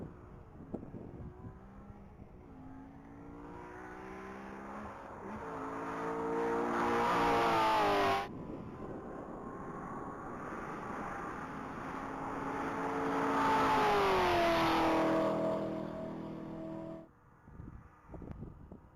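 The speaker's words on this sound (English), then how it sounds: "Bethany Kelly's on deck, vehicle number 88 in her white 2015 Chevrolet Z28" A white 2015 Chevrolet Z28 on a Texas Mile top-speed pass, its engine climbing through rising gears with brief shift breaks, growing loud and near, then cutting off abruptly.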